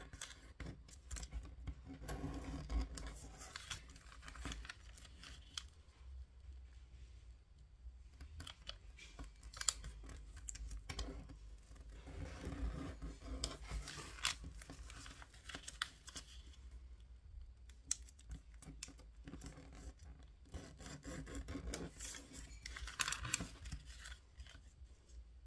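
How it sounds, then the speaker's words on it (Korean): Origami paper being creased and folded into triangles by hand, with soft, close-up rustling and scraping strokes that come in repeated bursts separated by brief quiet gaps, with no voices. "세모 모양으로 접어줍니다"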